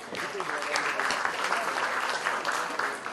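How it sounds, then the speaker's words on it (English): A large audience at an education panel event applauds in a sustained round of dense, steady clapping that fills the whole stretch without a break. "let's have a huge round of applause"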